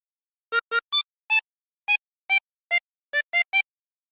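A harmonica plays a short melody: ten separate breathy notes, spaced in small groups with brief pauses, close and clear with no other sound.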